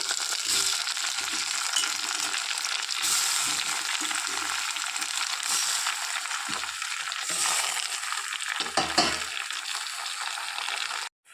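Tomato and brinjal pieces fry with onions in a pan, giving a loud steady sizzle broken by repeated scraping stirs and clinks of a utensil against the pan.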